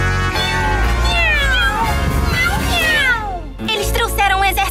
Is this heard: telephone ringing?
no